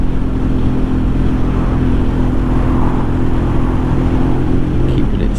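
Motorcycle ridden slowly along a road on a UK south coast tour, a steady low engine drone mixed with constant wind rush, loud and close throughout.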